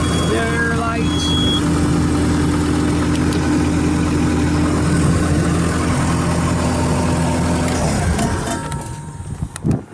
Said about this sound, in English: It is a good running working little machine.